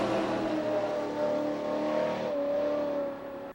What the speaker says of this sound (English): 66 Barracuda coming to life here at Atlanta Dragway